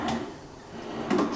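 Shallow drawers in a Disney's Copper Creek two-bedroom hotel room being opened and closed, a soft slide followed by a louder knock near the end, close and brief with no talking.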